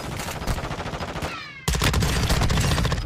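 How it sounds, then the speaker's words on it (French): Rapid gunfire in the video game Warzone 2: a fast string of close, punchy shots, a brief lull with a ringing tail, then a louder, denser burst of automatic fire, with no talking. "Ça tire là-bas."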